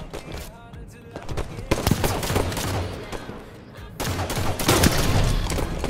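Gunfire in Halo erupts as a dense, continuous barrage of rapid shots and impacts that surges and eases over the whole stretch, with faint voices now and then.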